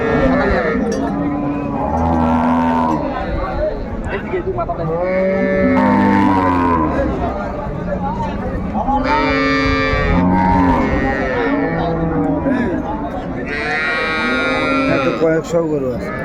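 Several dairy cows and calves moo repeatedly at a cattle market in Raniganj, Dinajpur, long deep calls overlapping, close by, with people talking in the background between the calls.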